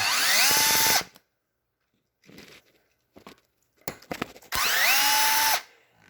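A power driver spins out screws from a Redcat Shredder RC truck differential in two loud, close bursts about a second long each, with quiet handling clicks and rustling between them.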